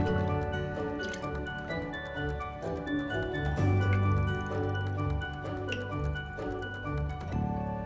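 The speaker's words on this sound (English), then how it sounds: "So I just whisk it" Oil, vinegar, salt and pepper are whisked into a salad dressing, making soft, wet, squishy clicks in a quick repeating rhythm over a steady tonal background.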